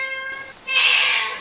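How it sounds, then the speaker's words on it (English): A pet cat meows indoors in the morning, first a steady tonal whine and then a louder, strained cry that carries on, close to the listener, with no talk. "I never get her cute meows in the morning."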